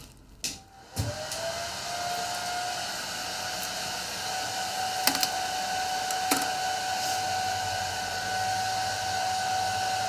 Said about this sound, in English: so let's blow dry on cool just for a minute,